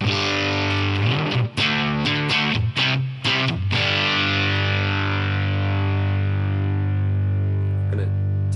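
Electric guitar played through a Mesa Boogie Mark IV amp model on a Helix, set to high-gain crunch: a few choppy distorted chords, then one sustained chord ringing out loud and saturated.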